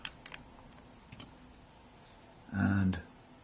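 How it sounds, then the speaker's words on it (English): A manual film SLR camera's advance lever winds on with a few faint mechanical ticks, followed by a short, louder ratcheting whir near the end of an otherwise quiet moment. "So we just wind on"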